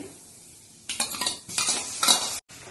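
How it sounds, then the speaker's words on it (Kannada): Mustard seeds, cumin and crushed garlic hit hot oil in a pan after the gas has been switched off, making short bursts of crackling sizzle and stirring scrapes, then an abrupt stop. "ಸಾಸಿವೆ ಹಾಕೊಳ್ಳೋಣ, ಜೀರಿಗೆ, ಜಜ್ಜಿರೋ ಬೆಳ್ಳುಳ್ಳಿ"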